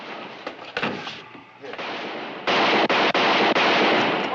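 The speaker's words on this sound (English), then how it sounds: "Tell them to stop shooting." Gunfire in a western TV episode sounds as a volley of loud, close shots. Sharp reports break out first and then merge into a dense, sustained barrage of rapid firing toward the end.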